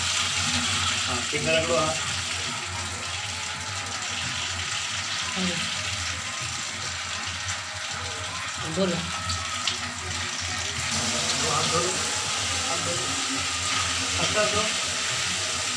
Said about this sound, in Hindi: पानी दो हैंड पे पानी दो